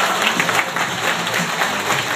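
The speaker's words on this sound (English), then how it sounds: "A hand of applause, ladies and gentlemen." Steady, full applause from a party audience at a Christmas fashion show of traditional dress from different countries; dense, continuous clapping at an even level throughout, close and lively.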